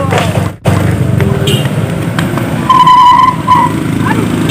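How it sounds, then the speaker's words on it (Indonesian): An automatic scooter rolls downhill with failed brakes, and a sustained tire squeal or screech rises midway, while people shout and talk loudly over the steady road noise. "motor yang remnya blong di turunan"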